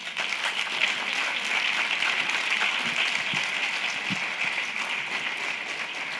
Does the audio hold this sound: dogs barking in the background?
no